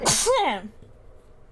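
A single close, sharp human sneeze bursts out abruptly, then fades into quiet room tone.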